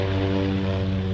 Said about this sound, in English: Oh, another airplane coming in.